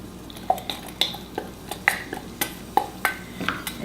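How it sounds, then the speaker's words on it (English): Onions go into melted butter in a pan, marked by a steady run of metal utensil clinks, pings and scraping stirs, close and fairly crisp, with no talking. "Okay, we're going to add the onions."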